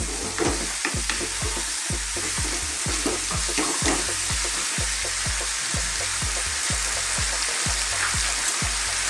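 Cumin, coriander and turmeric powders fry in hot oil for an extra hot chicken curry, giving a steady bright hiss with a regular, soft knocking beat as the pan is stirred throughout.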